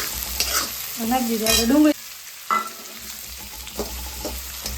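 Onions are added to hot oil already seasoned with cloves and black pepper for kaju masala. The oil sizzles loudly and a spoon stirs them. Someone speaks briefly, then there is a short lull before the frying continues.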